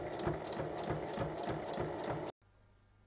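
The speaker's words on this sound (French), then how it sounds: "Et je referme l'ouverture en faisant une surpiqûre tout autour." A sewing machine topstitches around a fabric book pouch with a fast, even mechanical chatter of needle and gears, close and steady, then stops abruptly, leaving near silence before a final click.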